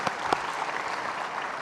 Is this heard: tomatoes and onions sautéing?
no